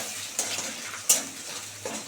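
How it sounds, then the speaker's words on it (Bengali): A spoon stirs a salted egg scramble in a hot pan for a kakrol and egg curry, with soft scraping strokes over a steady low sizzle and a couple of sharper clinks against the pan. "এই যে অল্প একটু লবণ দিয়ে দিচ্ছি, দিয়ে এটাকে ভালো করে ডিমের ঝুড়িটা করে নেব।"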